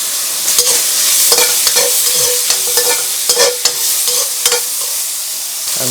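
Garlic stir-frying for chicken chow mein, a loud steady sizzle broken by repeated sharp scrapes and clatters of a utensil against the pan, alone without voices.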